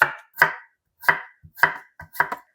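A kitchen knife cuts a raw cucumber on the diagonal with six sharp, close knocks on a cutting board, loosely spaced with short silent gaps and a quicker pair near the end.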